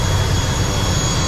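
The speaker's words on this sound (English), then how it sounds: "Quick little 45 minute flight on the prop plane." Propeller plane engine at a small airport near El Nido, Palawan, Philippines, giving a loud, steady, close drone with a low rumble and no break.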